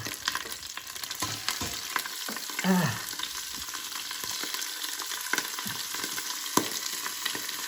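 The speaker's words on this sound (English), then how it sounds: "I'm going to put the calamari. It's going to pop." Steady sizzle of calamari frying in a pan, with pops and occasional stirring scrapes, fairly close, no talking.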